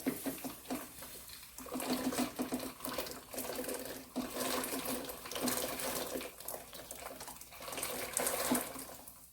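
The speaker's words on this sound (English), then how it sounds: "we're going to transfer some of these beans in here" Hot cooked red beans and their liquid are poured from one pot into another, giving a faint, continuous sloshing, gurgling pour with uneven surges and no talking.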